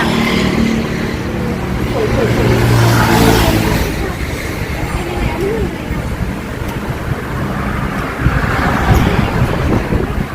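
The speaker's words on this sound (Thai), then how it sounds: "ลมพัดแรง" Strong, cold wind roars continuously outdoors at a shrine, buffeting the microphone with a loud, rushing broadband noise that swells and eases, while faint voices sit underneath.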